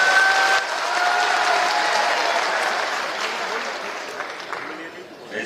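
A large crowd at a panchayat secretaries' convention in Madhya Pradesh applauds, a sustained wash of clapping that fades gradually over several seconds while a voice speaks over it.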